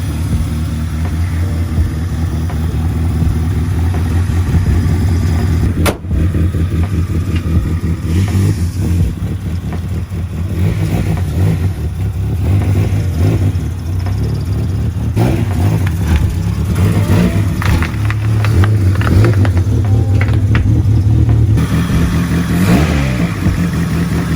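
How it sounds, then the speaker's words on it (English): A loud Honda Civic EG hatchback engine with an Integra DC2 exhaust fitted but no muffler idles roughly and revs repeatedly, harsh and close, with a sharp knock partway through and no talking. "We got the exhaust system back on, or without the muffler."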